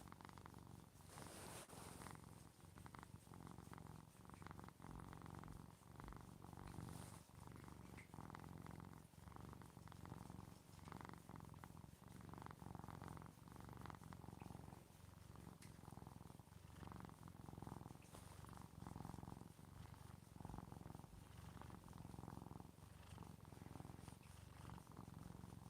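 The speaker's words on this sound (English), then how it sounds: "A little bit of a little purring going on." A cat purrs steadily and softly up close, the rhythmic rumble rising and falling with each breath for the whole stretch, with no talking over it.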